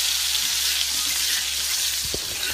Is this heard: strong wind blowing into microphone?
no